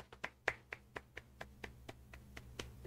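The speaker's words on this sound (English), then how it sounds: "What's the applause?" Scattered applause in an anime scene, roughly a dozen separate sharp claps at an uneven, slowing pace, fairly quiet over a low steady hum with no talking.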